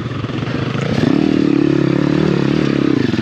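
Small Apollo RFZ Enduro pit bike engine droning steadily on a trail ride, a close, loud buzzing hum that rises a little after the first second, with clattering and scraping noise underneath and no talking.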